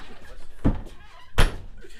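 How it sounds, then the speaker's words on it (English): The back door of a Passport 2950BH travel trailer is opened, giving two close, solid thunks roughly a second apart in a quiet interior. "So you got a really nice, cool back door so you can open it up just like this."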